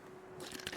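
Quiet crunching bite of fish eaten in The Long Dark survival game, a short soft crunch with a brief crackle near the end, close and alone.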